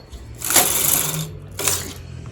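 A knitting machine carriage sweeps across the bed knitting tuck stitch rows in 4-ply mercerized yarn, giving two quick whooshing, rattling passes in a row, close and loud.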